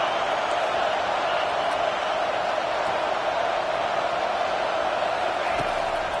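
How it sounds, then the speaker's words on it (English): A packed Purdue football stadium roars with a loud, constant wash of crowd noise that holds steady throughout with faint whoops. "listen to this crowd noise. This stadium is vibrating."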